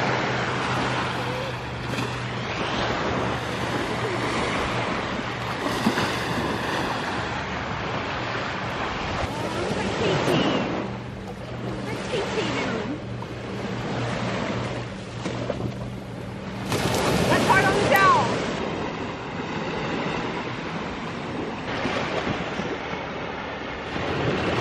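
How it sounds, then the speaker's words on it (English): Surf breaking on a Michigan lake beach, a steady broadband wash with swells and wind rumble, several louder surges near the middle and end. "Here we are on the beach."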